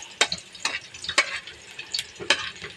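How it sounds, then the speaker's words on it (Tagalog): Garlic frying in cooking oil in a pan, a soft steady sizzle broken by several sharp clicks and scrapes as it is stirred, close and fairly quiet with no voices. "Kaya nilagay ko na yung mantika, tapos lagay ko na rin yung bawang."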